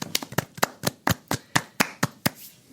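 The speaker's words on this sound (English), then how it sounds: "So, round of applause." A single pair of hands claps about eleven times in a steady, close rhythm, with sharp distinct slaps and no voices.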